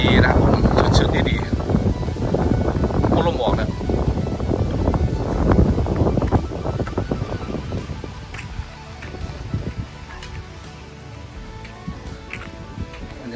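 Gusty wind blows outdoors at a cafe, buffeting the microphone with loud, steady rumbling that eases off toward the end, while someone speaks over it.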